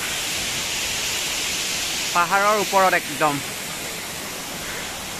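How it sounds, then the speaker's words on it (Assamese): Kakochang waterfall roars as a steady broadband rush throughout, with a person speaking briefly over the constant falling water. "ফাইনেলি পাই গ'লো সেয়া জলপ্ৰপাত, ওপৰৰ পৰা ভিউ চাওক আপোনালোকে"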